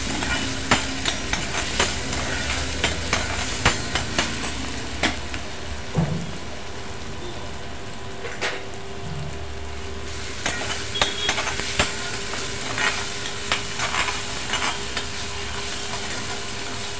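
Asafoetida hits hot oil in a pan, giving a steady close sizzle with frequent scraping taps of a spoon stirring, a few sharper knocks scattered through.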